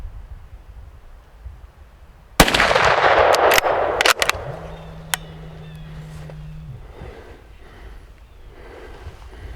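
A single loud rifle shot fired at a deer while hunting on public land, a sudden sharp crack with a lingering echo, followed by a few faint clicks and rustles in the quiet woods.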